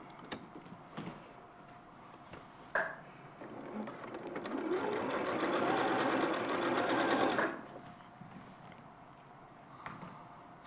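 A sewing machine stitches quilt pieces for a rainbow woven hearts quilt, a few isolated clicks giving way to a steady three-second whirring run of the needle before it stops, close and clear.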